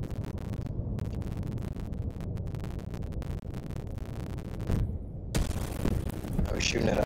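Gunfire in the Marauders video game: a dense, continuous roar of shots and crackling noise with rapid bursts that swell louder toward the end.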